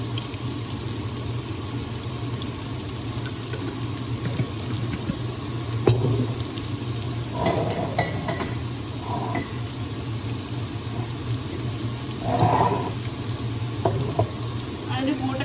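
Cumin seeds sizzling in hot oil in a pan for potato curry, a steady close frying hiss throughout with a few louder crackles and stirring scrapes.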